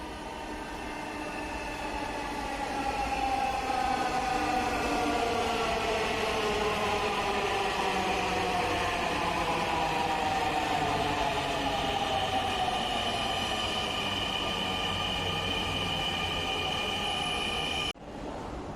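A Dhaka Metro Rail train pulls into Agargaon station. Its electric motor whine swells and then glides downward in pitch as it brakes, over a loud rolling rush and faint wheel squeal, and it cuts off sharply near the end.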